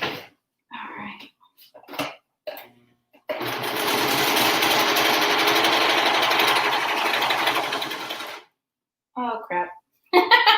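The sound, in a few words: sewing machine running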